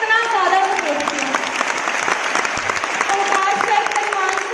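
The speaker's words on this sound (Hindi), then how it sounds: "मेरे सीनियर्स ने एक बार जोरदार क्लैपिंग चाहती हूँ" Steady applause from a seminar audience at a business success-day event in Ludhiana, continuous clapping that stays loud throughout, with voices and faint music underneath.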